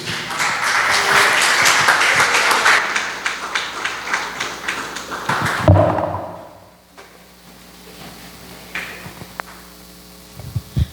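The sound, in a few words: church congregation applauding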